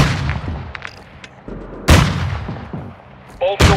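Gunfire in the Call of Duty MW2 DMZ video game: scattered shots and sharp cracks, then two loud bursts of fire standing out above a busy background of battle noise.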